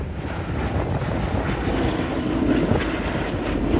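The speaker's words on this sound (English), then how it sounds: "here we see the aircraft flying past with smoke on to simulate a damaged engine" A B-17 bomber drones past trailing display smoke at an air show, its low, rumbling propeller engine roar mixed with wind buffeting the microphone.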